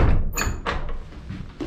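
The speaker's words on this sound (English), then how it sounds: "I'm going to close the door behind me." Door of a trail shelter on England's Coast to Coast walk is closed, with a creak, a solid thud and a couple of rattling knocks close by, over a short span.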